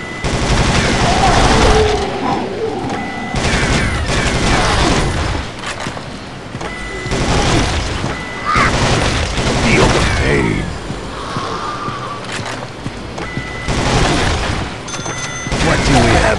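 A minigun fires in Dead Trigger 2 in long, loud continuous bursts broken by short pauses, with booms and mechanical clatter mixed in and a voice speaking between the volleys.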